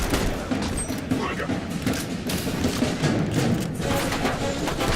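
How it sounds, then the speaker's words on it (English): Rapid gunfire in The Bureau: XCOM Declassified, a sustained fusillade of overlapping automatic bursts and thuds, loud and close, running continuously for the whole stretch. "Keep on firing!"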